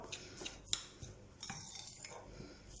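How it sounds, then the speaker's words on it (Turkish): Half a bunch of parsley chopped with a knife over salty cheese for börek filling: a few soft, light taps and faint metallic clinks, quiet and close, with no voices. "Şöyle yarım demet maydanozumu peynirin içine doğruyorum"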